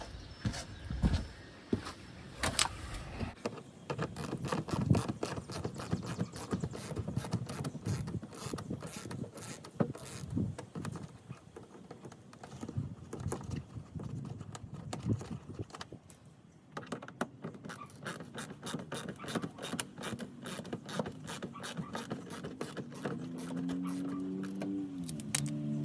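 A ratchet driving a T15 bit clicks in rapid, uneven bursts while removing side marker fasteners on a Pontiac G8, with short pauses between runs and a few metallic clinks, close and fairly quiet.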